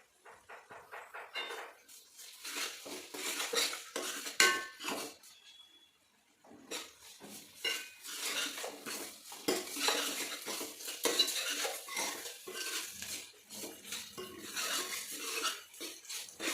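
A metal spoon stirs ginger paste and turmeric in a pan for chicken curry, producing busy scraping and clinking against the cookware that pauses briefly midway before resuming.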